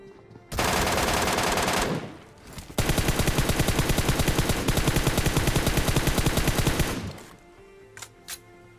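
Rapid automatic gunfire fills a Free Fire-style shooter match: a long burst, a brief pause, then another sustained stream of closely spaced shots before it stops, leaving a few faint sounds.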